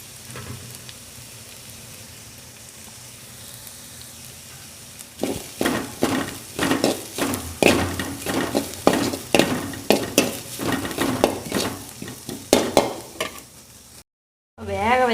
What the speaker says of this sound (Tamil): வெங்காயம் நல்லா வதங்கிட்டு கூடவே துருவிய தேங்காய் சேர்த்துக்கலாம்.